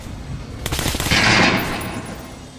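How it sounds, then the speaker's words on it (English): Automatic machine gun fire in the shooter Metro Last Light, a dense burst of rapid, loud shots that swells and then fades into a trailing echo, heard alone. "this gun sounds crazy"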